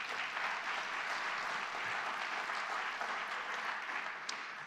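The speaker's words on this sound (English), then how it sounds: "So a big round of applause for them." Audience applause in a hall at a talk on the global order, a soft, even wash of clapping lasting nearly five seconds without a break.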